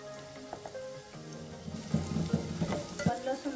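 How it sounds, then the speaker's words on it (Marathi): Garlic and chili paste frying in a pan with asafoetida, a soft steady sizzle with faint stirring scrapes that grow busier midway, heard under quiet background music. "आता ही लसूण मिरचीची पेस्ट आपण थोडी चांगली परतून घेणार आहे"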